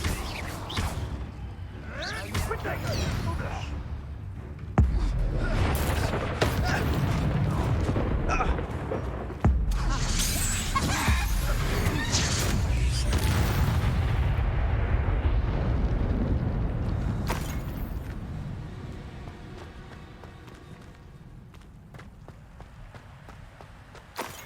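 A Confringo explosion spell in Hogwarts Legacy goes off as loud booming blasts and rumbling bursts, followed by footsteps and fading game ambience.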